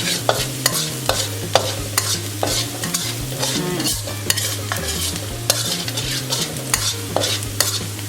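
Garlic stir-frying in a hot pan for a Thai pork-bone mixed vegetable soup: a steady loud sizzle with repeated scraping and clanking of a spatula against the pan, close and constant, no voices.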